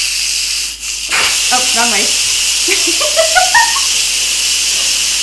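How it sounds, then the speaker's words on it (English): An Instant Pot on quick release vents steam across a kitchen counter, a loud steady hiss that runs throughout while a person speaks briefly over it. "there's lots of steam kind of going all over the counter a little bit"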